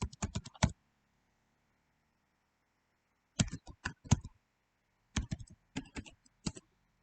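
Bursts of rapid key clicks from a computer keyboard as a password is typed, three separate clusters of close, crisp tapping separated by pauses of silence.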